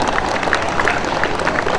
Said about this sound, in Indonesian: Ya, tepuk tangan lah itu.